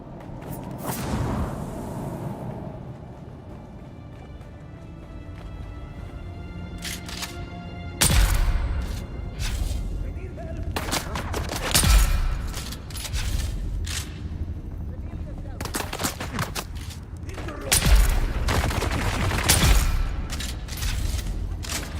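Sharp sniper rifle shots ring out in a video game, several loud cracks spaced seconds apart over a low background rumble and scattered game sounds.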